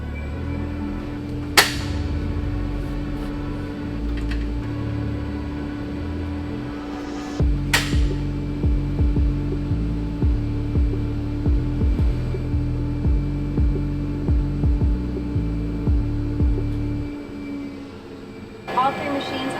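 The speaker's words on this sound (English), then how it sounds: "All three machines are warming up" Three coffee roasting machines warm up in a roastery, producing a steady, loud mechanical hum with a sustained drone, punctuated by two sharp clanks and a run of rhythmic low thumps, close and continuous without talk.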